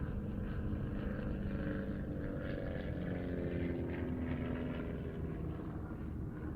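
An amateur-built light aircraft, with wood wings, coated canvas and fiberglass fairings, flies at the Farnborough airshow, its steady propeller drone loud and continuous throughout.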